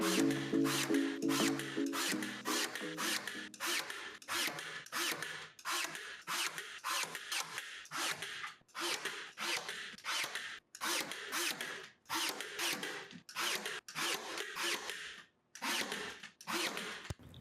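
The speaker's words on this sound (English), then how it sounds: "the backer board was ready to be nailed in with like a million brad nails." A brad nailer drives nail after nail into backer board for wainscotting, close sharp bursts fired in a rapid, fairly regular series with short pauses between.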